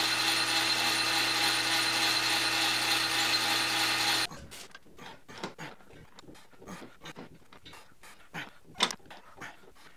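An electric motor powering a homemade bead roller whines steadily and loudly for about four seconds, then cuts off, leaving scattered clicks, knocks and handling noises in a quieter workshop.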